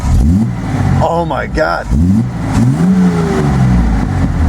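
A Datsun 240Z engine runs with a low, uneven idle that swells into revs, loud and close, while a voice excitedly exclaims over the engine throughout.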